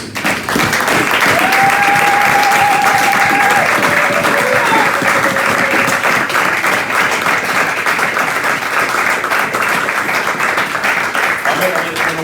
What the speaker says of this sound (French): Nous allons acclamer la parole de Dieu parce qu'elle est digne et elle est précieuse.